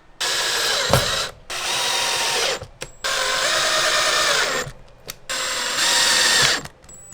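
A power drill drives number 10, 1.5-inch wood screws into bed boards during a van build. It whirs loudly and up close in four sustained bursts, each separated by brief pauses and small clicks.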